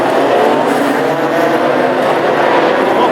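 Slick race cars roar together on a warm-up lap at Hednesford, a steady, dense engine drone with no pauses and no voices.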